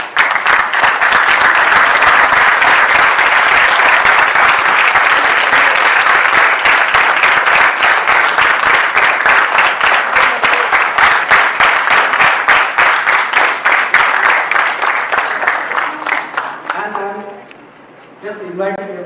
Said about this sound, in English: I just ask everyone to do the standing ovation for him